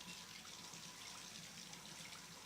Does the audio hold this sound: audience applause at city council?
no